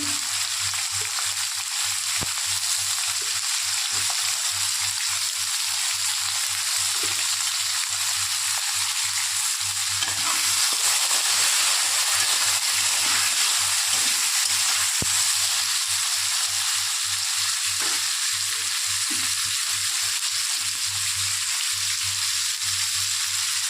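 Fish curry base with salt and turmeric frying in oil, a steady close sizzle with a low hum running underneath throughout, no voices.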